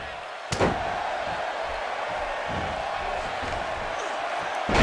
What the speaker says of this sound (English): And she hits a DDT that would make Jake Roberts blush.